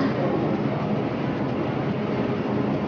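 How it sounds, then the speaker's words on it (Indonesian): Constant low rumble and hiss of an MTR train station in Hong Kong, like a train or ventilation droning steadily, with no clear voices. "di stasiun kereta ya"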